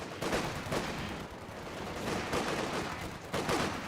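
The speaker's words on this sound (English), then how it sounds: "Taking infantry fire!" Infantry gunfire in a real-time strategy video game, a dense crackle of overlapping rifle shots and bursts rolling on continuously at moderate loudness, with no voices.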